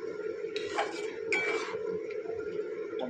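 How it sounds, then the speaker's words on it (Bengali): Spices with turmeric and salt being mixed and fried in a pan, heard as faint clinks and scrapes of a utensil against the cookware over a steady low background, with two brief louder bursts of stirring. "এবার সব ইনগ্রিডিয়েন্টসগুলো আমি মিশিয়ে কষাবো"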